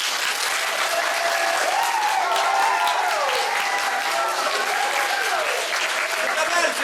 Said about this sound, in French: Et donc vos applaudissements, s'il vous plaît